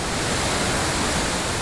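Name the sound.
wilderness waterfall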